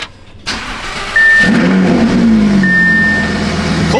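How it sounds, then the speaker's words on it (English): An 800-horsepower Audi R8 cold-starts in a garage: a short crank, then the engine catches with a loud, steady high idle that holds close and sustained to the end. "The cold start is very tame"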